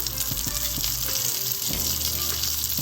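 Curry leaves hitting hot oil in a pan where chana dal has been roasting, a loud, dense crackling sizzle that runs continuously with small pops and spatters throughout.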